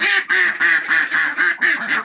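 Two ducks quacking as they are released into a flock, a run of loud, close, nasal quacks in quick succession, roughly seven calls with short gaps between them.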